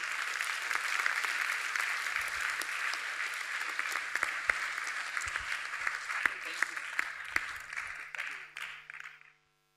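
An audience applauds to welcome a performance, a dense, sustained clapping at moderate distance that thins into scattered claps and stops abruptly near the end.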